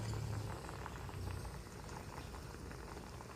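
A pot of paksiw na bangus simmers at a rolling boil, giving soft, faint, continuous bubbling and popping with no one talking.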